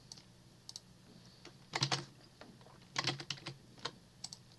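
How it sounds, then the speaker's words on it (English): Someone types on a computer keyboard in quick, uneven bursts of clicks. The keystrokes are close and fairly quiet, with short pauses between the clusters and no talking. "I apologize for the jumbled up typing."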